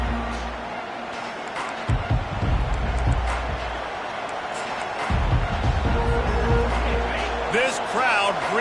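Continuous roar of a video-game stadium crowd in EA Sports College Football, loud and steady throughout with swelling bursts of cheering and low rumbling noise.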